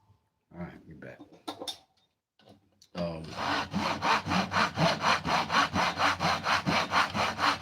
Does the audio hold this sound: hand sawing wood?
yes